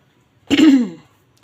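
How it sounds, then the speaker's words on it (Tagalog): One brief, rough cough or throat-clearing, close and loud, then silence. "Inuubo na naman."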